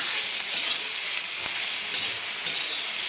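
Cluster beans stir-fry in hot oil with garlic and salt on a tawa, producing a loud, dense, continuous hissing sizzle up close with faint stirring movements underneath.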